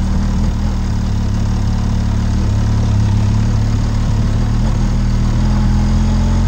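A Benelli TRK 502 X motorcycle climbing an off-road hill trail near Cabo da Roca, its engine droning loudly and steadily, close up with heavy low rumble throughout.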